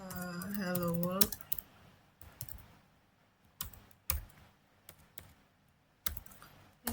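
Code typed on a laptop keyboard while setting up Python, heard as separate soft key clicks and a few heavier taps spread across the stretch after a short spoken phrase at the start.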